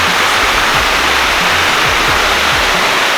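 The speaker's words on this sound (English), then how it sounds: "That's a cool waterfall." Waterfall spilling into a small pond at Alabama's highest point, a loud, continuous rushing roar heard up close with no voices.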